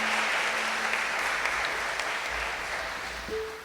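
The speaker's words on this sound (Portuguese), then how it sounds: "Vamos aplaudir a palavra de Deus." A church congregation applauds the word of God during a Catholic preaching session, a steady, full round of clapping from many hands that holds evenly throughout and eases off slightly at the end.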